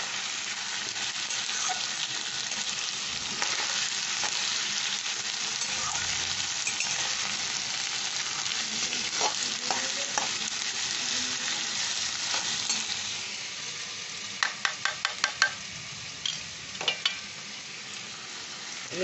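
Chicken dak bungalow sautéing in a pan with garlic paste, a steady broadband sizzle with occasional stirring scrapes and a few sharp clicks of a utensil near the end.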